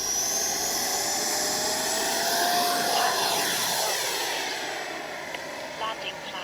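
A Freewing Avanti S radio-controlled jet rolls down a runway for takeoff, its electric ducted fan whining in a steady high-pitched roar that rises slightly, then eases and fades as the plane moves off.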